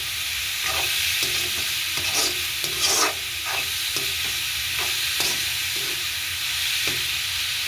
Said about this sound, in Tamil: இந்த நேரம் அரைக்கரண்டி உப்பு சேர்த்து கொண்டு வடிவாக இருக்கா கிளறி விடுவோம்.